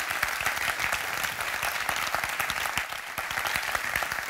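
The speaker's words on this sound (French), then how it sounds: "je vais peut-être vous demander d'applaudir à nouveau nos comédiens" An audience applauds comedians at a corporate evening event, with steady dense clapping from a sizeable crowd that keeps going at an even level throughout.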